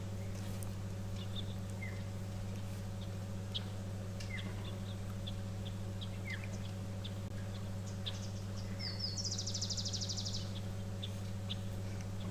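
Birds calling at an outdoor waterhole during a live wildlife broadcast, scattered chirps and a short rapid trill at a distance over a steady low hum.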